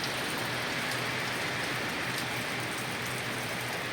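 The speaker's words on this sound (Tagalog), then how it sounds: "Ulan na po siya guys." Steady rain falls outdoors in the early morning, a dense, even hiss of drops hitting surfaces that continues without a break and with no voices.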